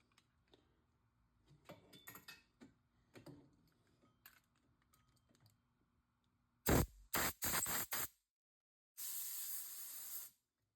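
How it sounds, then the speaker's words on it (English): Compressed air blowing chips out of a tapped hole, several short sharp hissing blasts followed by one longer steady hiss, close and loud after quieter workshop clicks and handling. "clean out any chips with compressed air afterwards."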